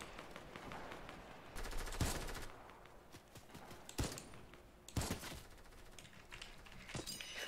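Rifle fire in Fortnite Team Rumble from an infantry rifle, with several sharp, loud single shots spaced unevenly over a steady background of game noise.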